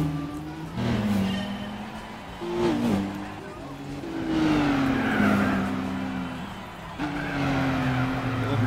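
Car sliding and skidding through corners in the Gran Turismo 4 rally event at Umbria, driving a Mazda Kusabi, with a steady engine note rising and falling and tire squeals, under intermittent talk.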